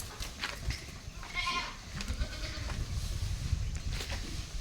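A billy goat bleating in an open cattle shed, several short nasal calls among rustling and farmyard noise, close and fairly loud with no talking.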